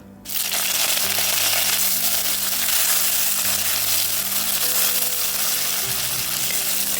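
Curry leaves hit hot mustard-seasoned oil for a Kerala-style fish curry, bursting into a sudden loud sizzle after a brief quiet start, then a sustained close crackling hiss with no talking.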